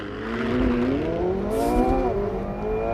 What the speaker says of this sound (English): All I have to do is floor the throttle, boost is building, and we're off.